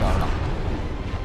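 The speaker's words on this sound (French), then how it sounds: "J'avais oublié que c'était ça l'explosion." A loud explosion in the action role-playing game Dark Souls, a broad roaring blast that fills the whole brief moment with a dense low-heavy rumble.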